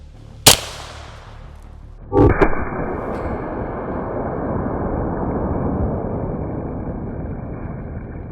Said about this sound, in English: So starting out with the 9mm, we have one round, 124 grain 9mm ball.